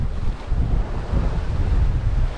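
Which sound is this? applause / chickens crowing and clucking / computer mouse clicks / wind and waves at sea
wind and waves at sea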